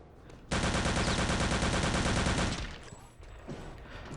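Rapid, continuous machine-gun fire from Return to Castle Wolfenstein rakes descending German paratroopers in a loud, dense two-second burst that cuts off abruptly, leaving faint ambient game sound.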